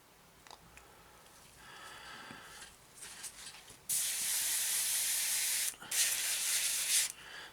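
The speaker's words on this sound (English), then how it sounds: "There we are, that's spraying through perfectly." NATO black paint hissing from an airbrush onto a Tamiya 1/48 Spitfire Mk.1 model kit, starting with short soft bursts and then settling into a loud, steady spray that is briefly interrupted and resumes, close up and without talk.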